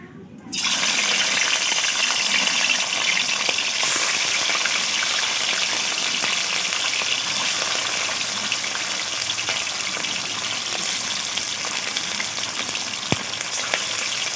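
Pieces of rohu fish, rubbed with salt and turmeric, sizzle steadily in hot oil in a pan, giving a continuous close bubbling crackle that stays even for the whole stretch with no talking.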